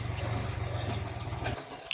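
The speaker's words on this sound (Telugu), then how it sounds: "ఇప్పుడు కంఫర్ట్ వాటర్లో జాడిచ్చేస్తాను" Water sloshes and splashes as clothes are swished around in a tub of fabric-softener water, a brief wet churning that stops abruptly.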